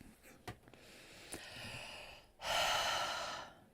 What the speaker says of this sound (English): Why am I breathing funny again?